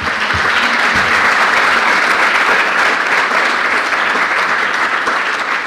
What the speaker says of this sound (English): I think we can give her applause